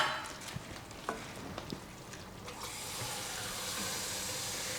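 A cup of water poured into a pot of arborio rice on the stove, a soft splashing pour with light sizzling and trickling that settles into a steady, gentle hiss.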